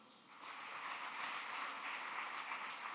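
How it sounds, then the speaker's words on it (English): Distant crowd applause, a steady wash of many hands clapping that swells slightly after the start and holds evenly, with no voices on top. "I detected more applause for Jane."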